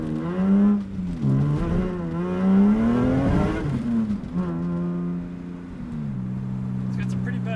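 A 1988 BMW E30 M3 fitted with an S54 engine revs hard from inside the cabin, a loud rising and falling engine drone with climbing harmonics, a voice speaking over part of it.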